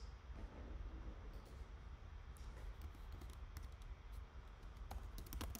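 Keystrokes on a computer keyboard while entering a DFX command, faint scattered clicks over a steady low background hum, with no talking.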